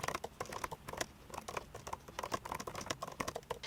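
Rapid, steady key clicks from typing on an iPad Pro Magic Keyboard, close and continuous with an even patter of soft taps and no talking.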